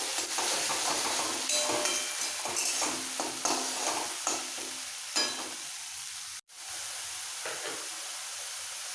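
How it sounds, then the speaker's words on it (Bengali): Poppy seed paste with onion and green chilli paste frying in a pan: a steady close sizzle with scraping stirs and light crackles, no talking. "পেঁয়াজের সাথে পোস্তটা একটু কষিয়ে নেবো"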